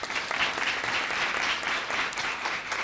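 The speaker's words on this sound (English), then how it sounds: "Round of applause." Audience applause for the school quiz team members at a final between secondary schools, a dense, even patter of many hands clapping from start to finish.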